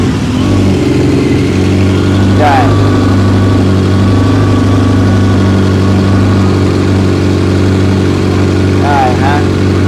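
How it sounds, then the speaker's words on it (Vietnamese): A Honda CB1300 Super Four SP motorcycle engine idles with a steady, loud, close rumble, with a short rev partway through and another near the end, while someone briefly speaks. "Các anh nghe động cơ nè."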